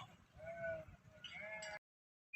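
Sheep near a sack of maize bleat in a few close, wavering calls, one after another, before a brief silence and the start of another cry.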